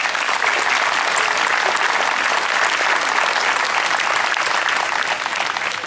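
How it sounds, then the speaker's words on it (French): An audience at an Assumption Mass gives a dense, sustained round of applause for the attending motorcyclists, steady for about six seconds before easing slightly. "On vous applaudit bien fort."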